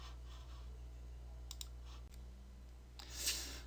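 Sharp, quiet mouse clicks sound a few times, separated by pauses, against a low steady hum.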